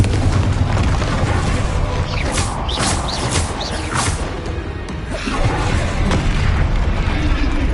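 A continuous roar of spell blasts in Hogwarts Legacy, where the Confringo fire-blast explodes amid whooshes and crashes, with dense booming across the whole stretch, loud and close, with brief swishing bursts in the middle.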